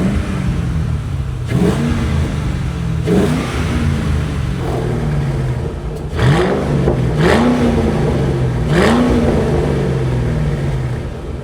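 A French car's V8 engine with exhaust valves revs repeatedly from idle, each blip rising and falling in pitch in a steady series of about six throttle bursts, close and loud with no talk.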